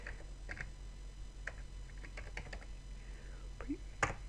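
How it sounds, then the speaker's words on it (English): Light computer keyboard typing, a few scattered soft key clicks and taps at low level over a steady background hum, ending with a slightly sharper keystroke. "type in run and hit enter, but this time we're going to type in prefetch"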